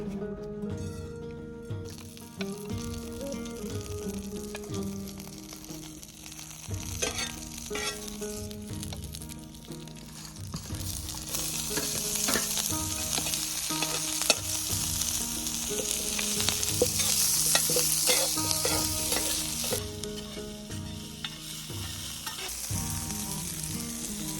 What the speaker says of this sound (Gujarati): તો આપણે એનો વઘાર કરીને આપણે ટોમેટાની ચટણી બનાવી દઈએ છીએ